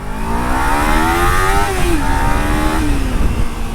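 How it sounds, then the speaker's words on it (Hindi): A Kawasaki Ninja 300 parallel-twin engine revs loudly and close, its pitch climbing, dipping briefly and rising again over a few seconds with no talking. "parallel twin engine"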